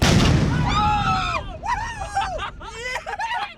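A CO2-powered explosion on a MythBusters test site: a loud, close broadband blast in the opening half-second, then excited screaming and shouting voices that carry on for several seconds.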